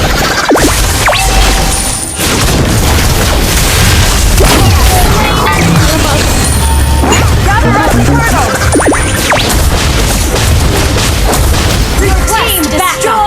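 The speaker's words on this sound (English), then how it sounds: "Team destroyed a turret!" Mobile Legends match with a turret being destroyed: a loud, busy mix of booming impacts and crashing effects piles up throughout, with game voice lines over the dense battle noise.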